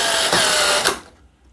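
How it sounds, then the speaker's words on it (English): Electric screwdriver drill drives a screw into wood for greenhouse staging, a close, loud whirring burst with a brief surge in pitch before it winds down and stops. "we just get the electric screwdriver drill at the right speed and slowly just screw that in"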